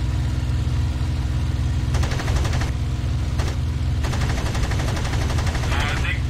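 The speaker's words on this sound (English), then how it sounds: "my cannon certainly can rip apart a yak" In the IL-2 Sturmovik 1946 flight sim, an aircraft's cannon fires two rapid bursts over a constant engine drone.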